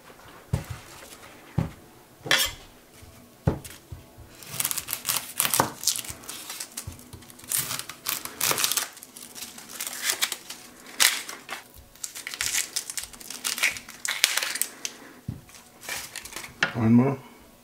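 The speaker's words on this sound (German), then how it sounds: "Jetzt hacken wir noch die Zwiebeln klein" Onions being chopped with a knife, a run of sharp irregular chops and crunchy cuts on a board, close and fairly loud, with some pauses between bursts.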